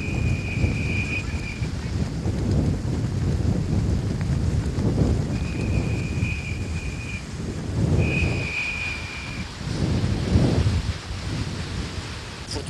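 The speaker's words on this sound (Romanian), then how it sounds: "vântul puternic a depășit 70 de km la oră" Strong storm wind over 70 km/h on the Black Sea coast at Costinești roars continuously, buffeting the microphone in low rumbling gusts, with a faint high whistle coming and going.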